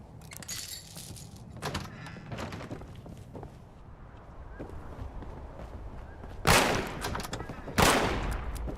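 Bursts of gunfire in the online game Fallout 76, with scattered shots early on and two loud, sharp volleys near the end.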